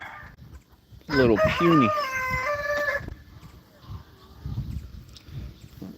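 A rooster crows loudly and close by from a backyard chicken flock, one long call, followed by softer clucking and low background noise, with someone speaking briefly beforehand.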